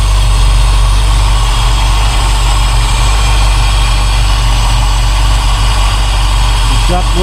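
A 1972 Mercedes-Benz 280SE 4.5 idles steadily while warming up, its low, even engine rumble constant and close throughout.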